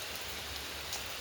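Rain falling steadily outdoors, a soft continuous hiss of drops with no other sounds.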